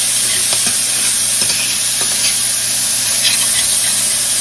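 Spoon scraping and stirring green cabbage leaves in a pot, with close, continuous sizzling and hissing from the hot pot and faint intermittent scrapes against the bottom, no talking.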